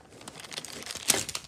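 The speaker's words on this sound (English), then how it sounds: "Get the tape off." Tape peeled off an N scale model railway layout, with close, soft crinkling and small tearing crackles and one sharper rip near the end.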